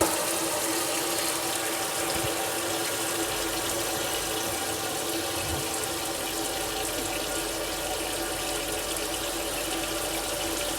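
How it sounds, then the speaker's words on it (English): A kitchen faucet runs in a vintage 1957 Airstream trailer, with a steady, continuous stream of water splashing close by for the whole stretch. "Ryan's going to hit the faucet in the kitchen."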